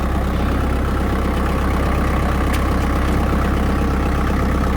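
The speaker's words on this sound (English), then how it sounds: "our tractor is just a simple, basic tractor" A simple, basic farm tractor idles close by, its engine a loud, steady low rumble with an even rapid pulse that runs unbroken throughout, with no voices over it.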